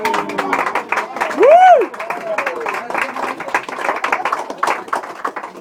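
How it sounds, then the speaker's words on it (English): Scattered clapping and crowd noise fill the room during a 60th wedding anniversary speech, with a sharp whistle rising and falling partway through and voices mixed in. "Feel free to burst into spontaneous applause at any time."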